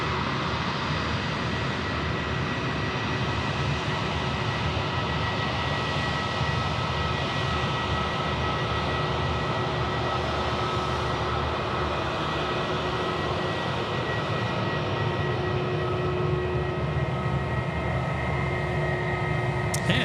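A Jetstar Airbus A320 jet at Sydney Airport at night, its engines making a steady, continuous roar with a constant whine layered on top, held at an even level throughout.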